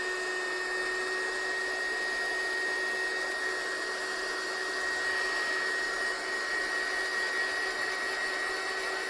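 A heat gun drying a watercolour card background blows with a steady, loud whirring hiss and a constant high motor whine, unbroken throughout with no talking.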